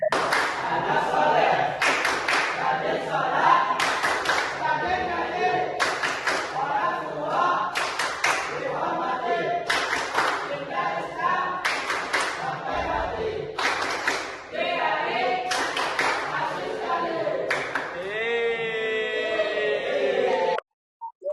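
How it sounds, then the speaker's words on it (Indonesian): A group claps in a steady rhythmic pattern, bursts of sharp claps alternating with chanting voices, loud and close throughout. "Oke, tepuk anak saleh."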